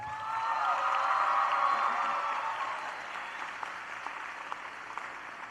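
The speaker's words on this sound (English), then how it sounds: "let's give your parents a round of applause." Sustained applause from a large crowd at a high school graduation ceremony, a dense wash of clapping that swells and then slowly thins, heard from a distance in a big room.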